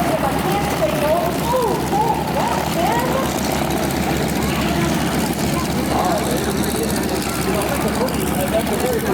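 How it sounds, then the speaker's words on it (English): Propeller airplane droning at the 2024 Sound of Speed airshow at Rosecrans Memorial Airport, a continuous engine hum mixed with crowd chatter and talk close by throughout. "That's a very particular airplane."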